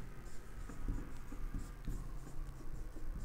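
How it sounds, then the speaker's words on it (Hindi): Marker or chalk writing on a board during a chemistry lecture, steady scratchy strokes up close with a faint room hum underneath and no talking. "यहाँ पर मैं आपके सामने दो एग्जाम्पल लिखता हूँ"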